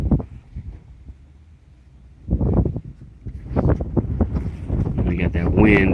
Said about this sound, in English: We got that wind. It's really windy today.